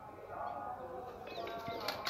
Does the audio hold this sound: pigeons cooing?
yes